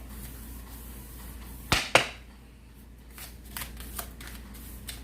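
Tarot cards being shuffled by hand at close range: two sharp riffling bursts, then softer scattered flicks and taps against a quiet room background.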